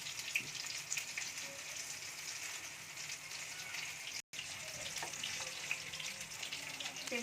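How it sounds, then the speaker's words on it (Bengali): Food frying in a pan over the flame, a steady, moderately quiet sizzle with faint watery hiss and a few light clinks, continuing after a brief cut, with no talk. "ভালো করে ভাজা না হলে আর ভিতরটা ভালো ভাজা হবে না।"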